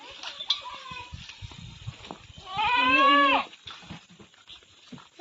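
One loud, drawn-out goat bleat rings out nearby at a farm where a nanny has just given birth to two kids, set among softer rustling and faint voices talking.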